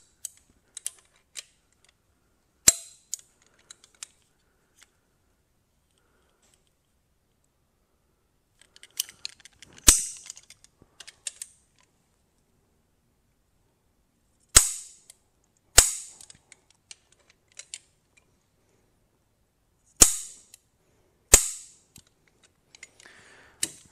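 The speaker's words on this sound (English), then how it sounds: "I'm going to start by torquing these to 25 foot-pounds first" A torque wrench tightens engine bolts to 25 foot-pounds during a 4.7-litre Jeep stroker motor build. It gives sharp, loud, isolated clicks in scattered clusters with near silence between them and no talking.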